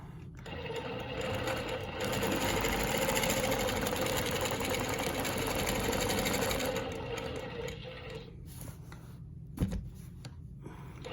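Longarm quilting machine stitching a Baptist fan pattern, a steady mechanical whir and hum running evenly for about eight seconds, then easing off with a brief knock near the end.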